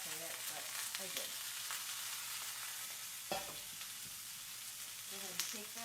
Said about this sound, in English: Now I can go ahead and add in the sweet potatoes. Yum. Oh, and the kale.